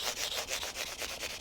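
Sandpaper folded over the edge of a guitar fretboard is rubbed back and forth at an angle during wet sanding of a sprayed finish, giving soft, rhythmic rasping strokes about four per second, close and quiet.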